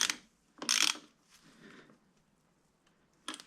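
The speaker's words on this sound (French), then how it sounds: "on va juste se faire un petit serrage, juste un tout petit peu pour pas que ça bouge" Brake caliper bolts being snugged up lightly on a Suzuki SV 650 motorcycle: short metallic ratchet clicks and tool clinks in separate bursts, close up, with quiet gaps between them.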